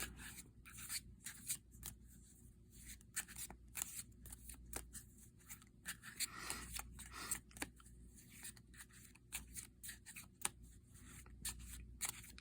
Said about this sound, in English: I'd probably need to shuffle a lot more than this to get them thoroughly mixed